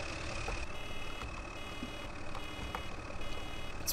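A truck in the video game Farming Simulator 2013 idles while its reversing alarm gives faint, evenly spaced beeps over the engine's steady low drone.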